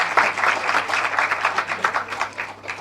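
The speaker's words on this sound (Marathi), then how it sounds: "नालंदासाठी सुद्धा जोरदार टाळ्या झाल्या पाहिजेत" An audience at a village panchayat felicitation ceremony claps for the Nalanda award, giving a burst of rhythmic applause that is fairly close and lively.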